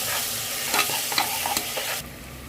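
Onions with ginger garlic paste and curry leaves sizzle loudly in a hot pan for a curry, with steady frying crackle and a few stirring scrapes, and no talk.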